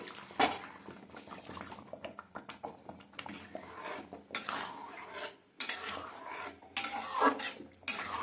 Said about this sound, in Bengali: এইবারে আমার মিক্সিং জার ধুয়ে একটু জল দিয়ে দিলাম